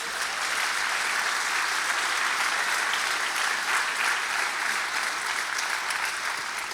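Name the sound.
congregation applauding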